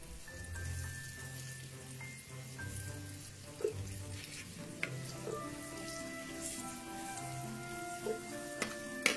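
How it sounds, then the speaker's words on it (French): Flour-coated aubergines fry in oil, giving a soft, continuous sizzle with scattered small pops, heard close under faint background music tones. "Frire les aubergines jusqu'à ce qu'elles deviennent dorées."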